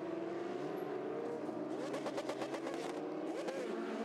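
Indy Lights race cars at Barber swerving to avoid a crash on course, engines revving and shifting as they pass at a distance, a brief rising and falling whine.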